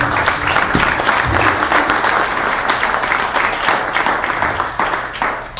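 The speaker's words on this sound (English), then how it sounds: "let's give a round of applause" An audience applauds steadily throughout, many hands clapping in a dense, sustained patter at moderate loudness.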